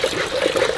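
Water poured into a kadai to make chai outdoors, a short steady splashing trickle with no talk.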